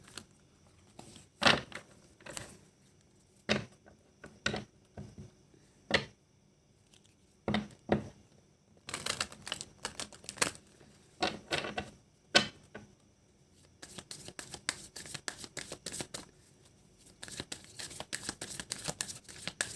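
Angel oracle cards are shuffled and drawn in a string of sharp, separate flicks and riffles, with quiet gaps between bursts and a denser run of shuffling toward the end, no talking.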